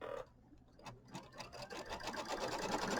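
An embroidery sewing machine stitches a batting placement line for a mini quilt. Its rapid, steady needle chatter starts after a brief pause and builds to a constant close-up whir, with no talking.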